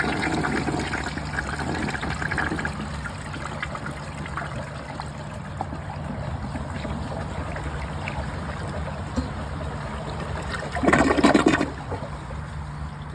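A 1968 American Standard Cadet toilet flushing during a bowl rinse test with dirt in it, giving a steady rush and trickle of water throughout, with a louder gurgling surge near the end.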